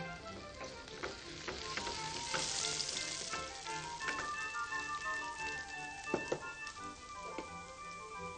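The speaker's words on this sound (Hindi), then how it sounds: "जीरा जब थोड़ा पक जाए तो फूटना शुरू हो जाता है, उस समय इसमें गार्लिक डालें" Garlic and cumin seeds fry in hot ghee with a steady, fine sizzle and crackle, with occasional sharper pops and stirring taps close by.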